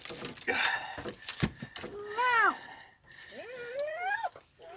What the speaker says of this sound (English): Have you heard the dogs?